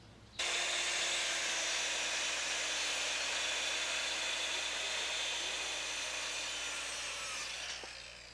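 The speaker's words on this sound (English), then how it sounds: "we've drilled the holes in the ledger board" A power drill bores into a wooden ledger board for terrace construction, giving a loud, steady whining grind that starts abruptly and holds for several seconds before tapering off near the end.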